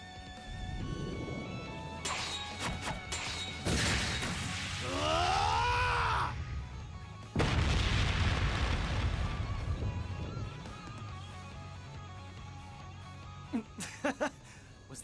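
Ungula Barrage attack landing in a video game: several heavy crashing bursts, one carrying a sweeping whinny-like cry, then a broad loud impact, fading to low rumble with a few sharp hits near the end.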